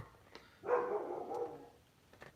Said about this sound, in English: barking at his shadow again